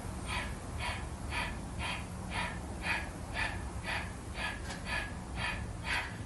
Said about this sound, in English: My breathing technique here is panting breathing. So I'm panting like a dog, and I pant with the movement.